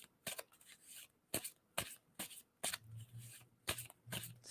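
Close, quiet shuffling of a tarot deck, a handful of separate papery riffles spaced about half a second to a second apart, with no voices.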